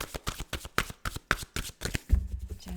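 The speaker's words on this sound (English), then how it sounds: "It really takes this time to shuffle here for the perfect card to come out." A deck of tarot cards is shuffled by hand in quick riffling bursts, a rapid series of close, crisp flutters and taps, ending with a soft knock as the cards settle.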